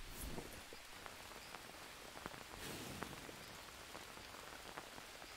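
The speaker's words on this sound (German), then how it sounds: "wenn wir in den Regen gehen" Steady rain pours down in the survival game Green Hell, a dense, even hiss of drops pattering on surfaces with scattered sharper splashes, continuous and alone throughout.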